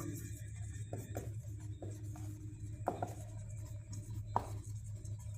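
Chalk or marker strokes on a board during a physics lecture, with quiet irregular scratches and taps and a steady low hum behind them.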